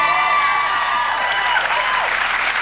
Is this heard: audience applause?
yes